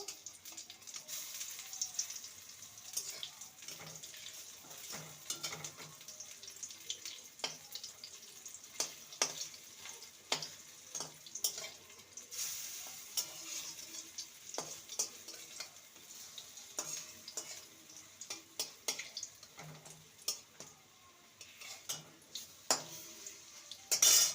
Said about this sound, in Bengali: এক দিকটা ভাজা হয়ে গেলে অপর দিকটাকে উল্টে দেব